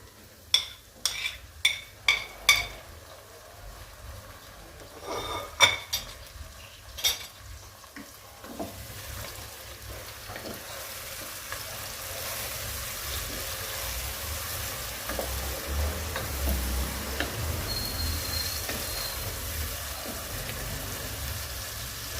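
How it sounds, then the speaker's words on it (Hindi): Finely chopped green chillies and tomato tip into sautéed onions for a peas-and-egg bhujia, with a few sharp utensil clacks at first, then a steady, close sizzle of frying and stirring carrying on alone. "अब मैं इसमें बारीक कटा हुआ हरी मिर्च और टमाटर डाल दूंगी।"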